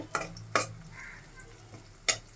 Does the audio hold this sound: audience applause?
no